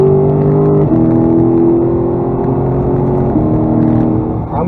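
A Lexus GSF accelerates hard out of a corner on the Bedford circuit. Its loud engine note climbs steadily, with a couple of quick upshifts breaking the rising tone, and no one talks over it.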